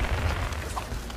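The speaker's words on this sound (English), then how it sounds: "I love those fireworks, man." Fireworks bursting in the video game Knockout City, a dense rumbling boom with low thumps and crackle filling the whole short moment, loud and continuous with no talk.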